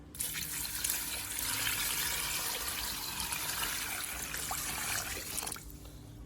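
Plain water poured over crabs being washed, a steady broad splashing pour running for about five and a half seconds before cutting off, close and moderately loud with no talking.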